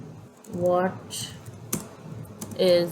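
Someone types a quiz question on a computer keyboard, leaving soft scattered key clicks mixed with talk.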